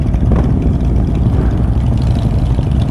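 Several Harley-Davidson motorcycles from a riding club idle and rumble together outdoors, a steady, loud low-pitched engine drone that runs unbroken throughout.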